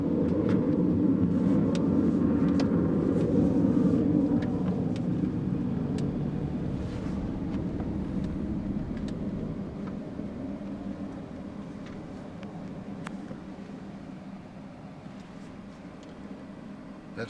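A U-2 spy plane takes off from the runway, a loud, broad jet roar that swells early and then slowly fades as the aircraft pulls away, with wind buffeting the microphone throughout.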